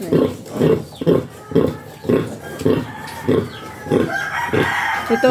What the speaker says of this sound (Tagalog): Ito ang inahin.